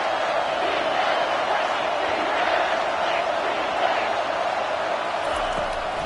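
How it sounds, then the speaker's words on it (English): A dense, steady roar from a packed stadium crowd at a college football game, loud and sustained as fans get behind the defense on a third down, with no clear break in the noise. "Big 3rd down as the crowd gets behind this defense."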